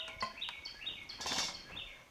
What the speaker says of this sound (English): there's a bird outside saying hello to you.